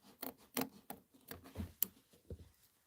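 Scissors trim quilting fabric at the corner of a block over batting, making a series of quick, quiet snips close by, about eight short cuts in an uneven rhythm.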